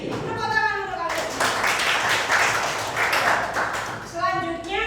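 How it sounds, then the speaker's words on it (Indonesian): Students in an Indonesian-language class give a burst of group clapping, dense and fairly loud in the middle of the stretch, with a teacher's voice talking before and after it. "Tepuk tangan untuk kalian."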